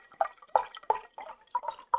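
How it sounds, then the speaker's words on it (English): Water poured into a glass in short bursts, a run of bright, hollow splashing gulps that rise in pitch as the glass fills, close and clear with no talking. "Just pouring myself some water."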